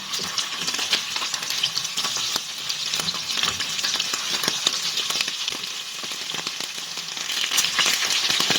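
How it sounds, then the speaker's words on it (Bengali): Chicken pieces from a desi rooster fry in hot oil, a steady close hiss and sizzle with scattered crackles and pops running throughout, loudest near the end. "তেলটা গরম হয়ে গেছে এটা আমি পিসগুলো দিয়ে দেবো"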